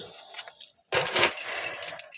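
Keys on a small handmade red keychain with a little leaf charm give a bright metallic jingle that bursts in after a quiet moment and keeps rattling close and fairly loud until the end.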